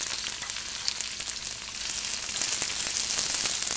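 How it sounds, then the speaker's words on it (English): Finely sliced medium brown onion sautés in hot cooking oil over medium-high heat, a steady dense sizzle that builds slightly louder toward the end, close and continuous with no talking. "I'm heating up some cooking oil, and I'm going to put in finely sliced medium brown onion to saute"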